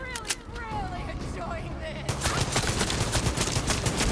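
Rapid gunfire in Far Cry 6, with sparse shots at first, then a dense burst of automatic fire starting halfway through and continuing to the end; voices are heard over the early part.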